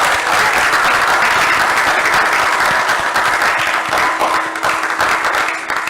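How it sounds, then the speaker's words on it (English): An audience claps steadily for a guest, Father Tony, as he finishes his appearance, a dense, loud wash of applause that continues without pause and fades slightly near the end. "Let's clap for Father Tony."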